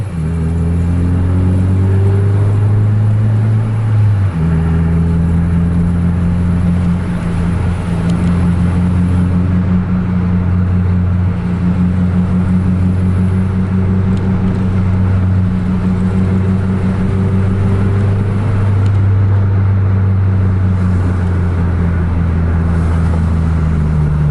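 A bus engine held at full throttle while overtaking another bus, a loud, steady low drone that steps up in pitch near the start as the gear changes, then sustains under constant wind noise.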